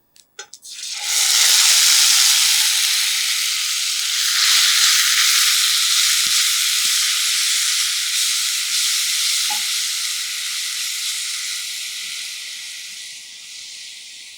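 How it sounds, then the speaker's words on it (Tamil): Ground ginger-garlic paste hits a hot pan for a beans masala gravy, bursting into a loud, steady sizzle and hiss that swells at once and holds for several seconds, fading slightly toward the end, with faint stirring knocks underneath. "இதோட பச்சை வாசனை போக லைட்டாக வதக்கிக்கணும்."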